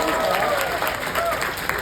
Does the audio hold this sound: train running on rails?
no